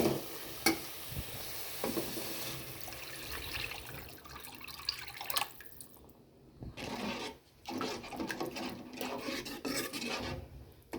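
A utensil scrapes and stirs tamarind water into a bubbling, sizzling pot of fish curry, with gentle liquid sloshing throughout and brief quieter pauses.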